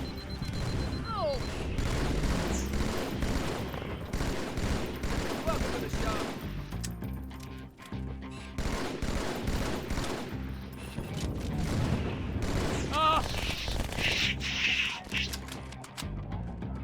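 Battle rifle fire and other weapons rattle in a Halo 2 firefight, dense overlapping bursts and booms with game effects, loud and continuous throughout with occasional voices mixed in.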